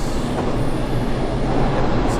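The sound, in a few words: train running on rails in JR East Train Simulator video game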